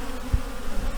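Honeybee swarm being moved into a new hive box, giving a low steady buzzing hum throughout, close by, with a brief thump partway through and no talking.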